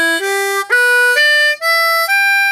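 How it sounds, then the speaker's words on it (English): Harmonica playing an ascending riff up the major pentatonic scale, skipping the draw 3-hole step bend, five or six bright reedy notes stepping upward one after another, loud and close with no voice. "A cool ascending riff would be basically going up the major"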